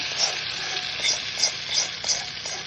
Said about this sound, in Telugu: పోపు వేగుతున్నది